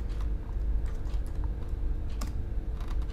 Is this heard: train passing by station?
no